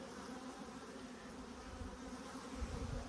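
A steady, dense buzzing of many honey bees flying nearby, continuous and even, with no voices.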